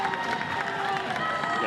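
Crowd noise at a Little League World Series baseball game, a broad, steady cheer rising from the stands beneath a commentator's talk.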